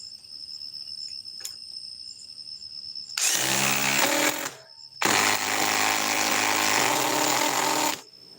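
A DeWalt 870 impact driver runs two loud sustained bursts, about a second and then three seconds long, separated by a brief pause, over a steady high cricket chirring in the background.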